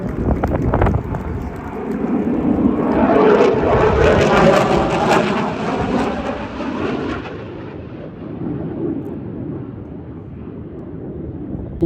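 A Blue Angels jet roars overhead at an air show at NAS Pensacola, a broad rumble swelling to a peak and fading away, buffeted by wind noise on the microphone.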